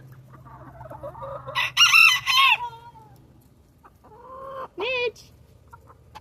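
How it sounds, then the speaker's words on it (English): A young rooster crows and clucks nearby in short bursts, with a strained, hoarse crow in the middle and another brief call later, over a low background hum, while a person briefly speaks. "Let me go get this little baby rooster."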